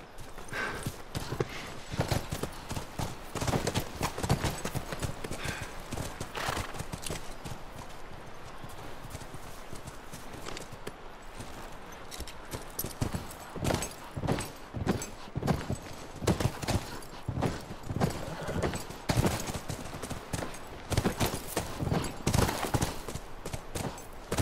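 Horses walk on in The Last of Us, their hooves clip-clopping in a steady, uneven rhythm for the whole stretch. The hoofbeats sound fairly close and grow busier toward the end.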